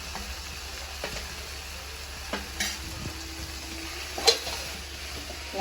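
Tomato with ginger-garlic paste frying and being stirred for beef curry, a steady close sizzle broken by a few scrapes and clinks of the spoon against the pan.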